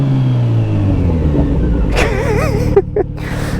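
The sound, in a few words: motorcycle engine revving with rev matches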